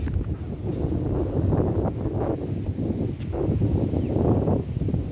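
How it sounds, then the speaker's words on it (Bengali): Wind blows steadily across a seashore beside a village, a continuous rough rushing buffeting the microphone, with no talking. "কত ঠান্ডা বাতাস, আল্লাহর নিয়ামতের বাতাস।"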